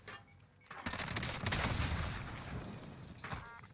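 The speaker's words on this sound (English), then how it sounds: "Yeah, they're shooting me." Gunfire in Call of Duty Warzone on Rebirth Island, a burst of rapid shots swelling into a sustained rattling roar for a couple of seconds, then a short final burst, fairly faint overall.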